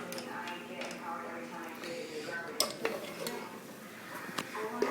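A pot of long-cooked curry chicken being opened and stirred, with lid clanks and metal utensil scrapes against the pot, some sharp knocks, and a voice talking over it.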